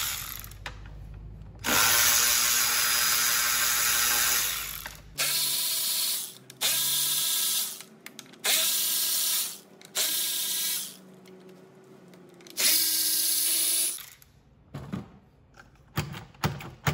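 A hand ratchet backs out 8 mm intake bolts on a Ford 3.5 Cyclone engine in an Explorer, Edge or Taurus, clicking in a run of repeated short bursts with pauses between, close and clear, with no voices.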